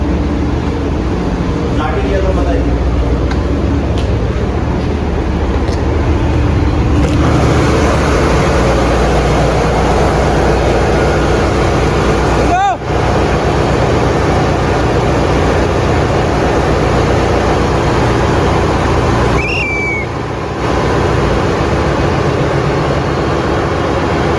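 A ship's engine runs in a noisy engine room during a blow-through, a loud, constant low rumble and roar filling the whole stretch, with a brief sharp clank partway through.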